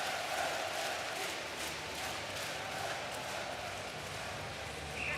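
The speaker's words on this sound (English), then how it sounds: "listen to this crowd" Hockey arena crowd at the Spengler Cup in Davos cheering after Ambri-Piotta's empty-net goal against Örebro HK, a broad sustained roar with rhythmic chanting pulses, moderately distant and steady throughout.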